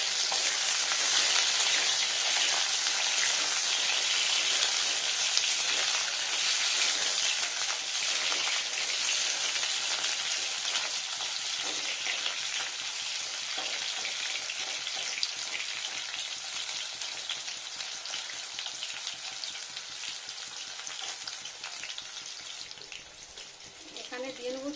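Pieces of ridge gourd and eggplant fry in hot oil with a loud, bright, continuous sizzle. It eases slightly over time, with a few stirring scrapes near the end.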